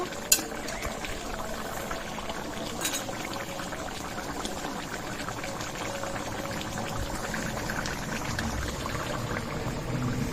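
Fish and potato curry made with bata fish and onion, poured out of a cooking pot, gives a steady, fairly loud liquid gurgle and bubbling that runs through the whole stretch with a few faint clinks and no speech.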